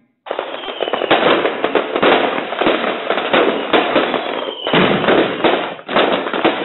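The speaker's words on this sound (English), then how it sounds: "I had fireworks." Loud crackling fireworks bursts in dense rapid pops, continuous for several seconds with brief pauses, sounding close and sharp.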